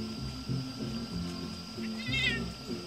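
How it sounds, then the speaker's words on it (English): Cats fighting, with a tense meowing yowl rising near the end over a steady background hum and faint low rumbling; voices murmur softly in the background. "Cat fight."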